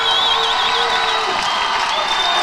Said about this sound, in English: Crowd gets loud